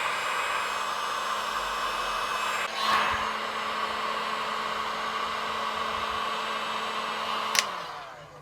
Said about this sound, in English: So I'm going to use a heat gun to soften up the Loctite.